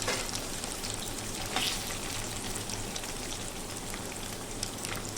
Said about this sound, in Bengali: খুব হালকা করে ভেজে নেব, আমি একটু সামান্য লাল লাল করে ভাজবো।